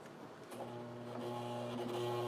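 A sewing machine stitching a straight dotted seam, its motor giving a quiet, steady whirring hum that builds slightly in loudness, heard alone without talk.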